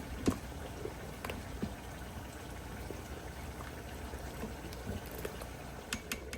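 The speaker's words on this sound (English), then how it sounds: "It's been simmering for about 15 minutes. I'm gonna call this taco soup done." A pot of vegetarian taco soup simmers with a soft, steady bubbling and occasional light pops, quiet and continuous with no talking.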